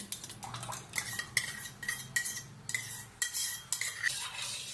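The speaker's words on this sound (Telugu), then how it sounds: "పాలలో పెరుగు అంతా బాగా కలిసి అట్లా బాగా కలపాలి" A spoon stirs curd into milk in a cup, clinking repeatedly against the sides in a quick, uneven rhythm, close up and fairly quiet, with no voices.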